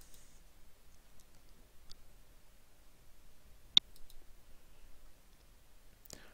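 Computer mouse clicking while opening Windows 10 settings: a few faint, sparse clicks, with one crisp, distinct click near the middle and another toward the end, in an otherwise quiet room.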